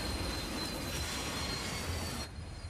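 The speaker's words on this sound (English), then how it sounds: "If you think trains will stop if they see a car on the tracks" Train wheels squealing on rails, a continuous loud metallic screech with rumbling undertone, sustained throughout before dropping off abruptly near the end.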